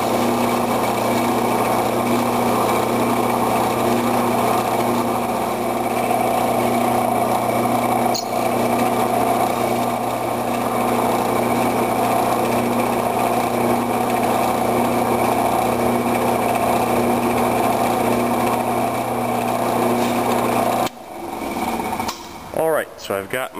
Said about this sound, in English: Alright, so I've got my series of holes drilled.